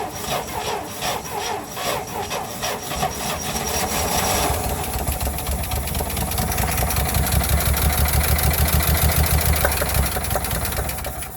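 An International Harvester Scout 80 engine, a barn find with a new fuel line and filter, cranks with a rhythmic starter whir, then catches and runs with a rough, steady idle.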